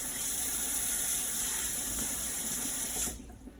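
Water streams steadily from a pull-down sprayer on a commercial-style kitchen faucet into a sink, a close, even hiss that cuts off abruptly just before the end.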